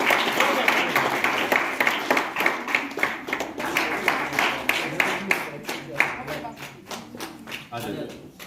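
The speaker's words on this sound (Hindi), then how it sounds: "शाबाश शाबाश, जोरदार तालियां।" Audience applause at a taekwondo academy felicitation ceremony, loud, dense clapping from a crowd that sustains for several seconds, then thins into scattered, slower claps toward the end.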